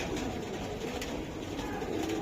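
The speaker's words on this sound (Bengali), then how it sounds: "এই নটটা, এই দুইটা কবুতর দেখবেন ভাইবেশন প্রচুর ভাই" A pair of Jabra Pankhi pigeons coo in a low, continuous murmur, close by and fairly steady throughout, with dense rustling and background noise around them.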